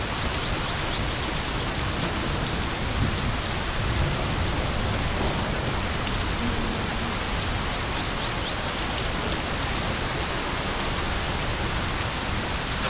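Steady rain in My Summer Car, an even hiss of falling drops on surfaces that holds unchanged for the whole stretch, with no distinct thunderclap standing out.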